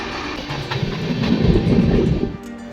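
Loud, close rumble of the moving 22644 Ernakulam Junction Superfast Express passenger train from Bankura to Puri, with a low rolling roar and faint rhythmic clatter of wheels on the track.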